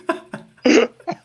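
Short bursts of a man's cough, three or four quick close hacks in a row, with the loudest one in the middle, heard alone without talk.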